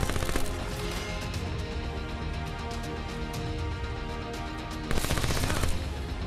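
Light machine gun in Black Ops 4 firing long, continuous rapid bursts, loud and close, with a short pause near the end before a final burst.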